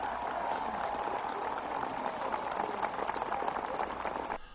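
A large outdoor crowd applauds after Martin Luther King's I Have a Dream speech, a dense, sustained roar of clapping that holds steady and then cuts off abruptly at the end.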